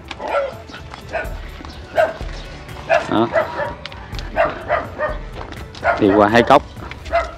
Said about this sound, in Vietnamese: Nhưng tôi chừng chó cắn nha.